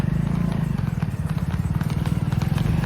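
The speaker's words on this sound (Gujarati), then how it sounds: "બતાવી તમને ઘોડીયું કેવી ચાલે" Steady clip-clopping of three mares' hooves on a hard road, a brisk continuous rhythm close by, with traffic rumble underneath.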